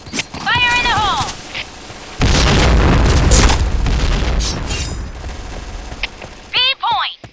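A grenade explodes in the tactical shooter Insurgency: Sandstorm, a loud boom followed by a rumbling tail, with shouted callouts and radio voices before and after.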